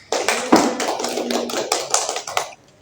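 A brief burst of hand clapping from a small group at a school discussion session, sharp irregular claps close by for about two and a half seconds, then stopping.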